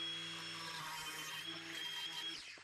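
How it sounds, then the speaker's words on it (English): An angle grinder cuts a small corner piece from the rear cab wall of a 1967 Kaiser Jeep M715, giving a loud, steady high-pitched whine that runs close and continuous before spinning down at the end. "we're just gonna get our angle grinder and cut that little corner piece out"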